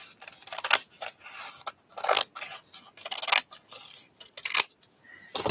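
Scissors cutting through paper during journal making, a series of close, crisp snips and slicing strokes in uneven bursts with brief quiet gaps between them.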